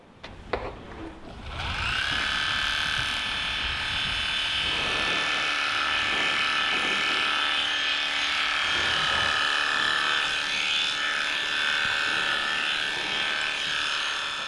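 Aesculap Econom Equipe horse clipper running, a loud, steady electric buzz that starts after a few handling clicks and holds close and constant, its tone shifting slightly as the blades work.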